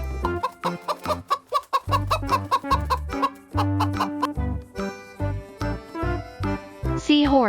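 A chicken clucks in a quick, rhythmic run of loud, close bursts, followed by a steadier stretch of clucks that ends with a higher squawk.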